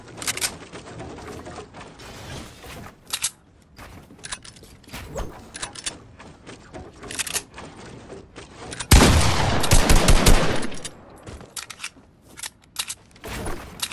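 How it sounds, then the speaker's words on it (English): Minigun firing in Fortnite: scattered gunshots, then a dense, loud sustained burst of rapid fire for about a second and a half, followed by more sporadic shots, with no talking. "Dude, I got a mini gun."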